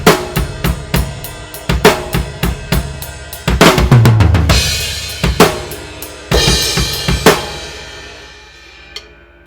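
A song's chorus drum groove is played at a slowed tempo, loud and close on a kit. Steady kick and snare hits run under ringing cymbal crashes that swell in two spots before the pattern stops.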